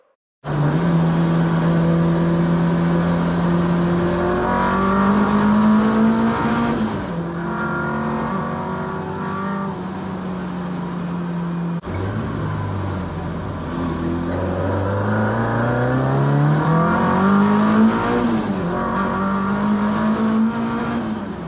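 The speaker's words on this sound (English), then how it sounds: "This car is so fun to drive down these country lanes." A car nicknamed Esther, after fuel-system repairs, drives down bumpy country lanes; its engine hums close and loud, revving and rising in pitch through gear changes, dropping, then climbing again, with no talk.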